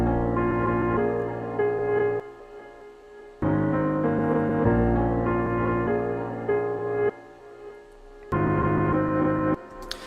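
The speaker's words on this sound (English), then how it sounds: "I went ahead and I added a delay, so an echo boy, just a 1/4 note delay" A smooth trap soul sample runs through a quarter-note Echo Boy delay, its sustained chords playing in sections that cut off abruptly into brief quiet gaps before the next phrase begins.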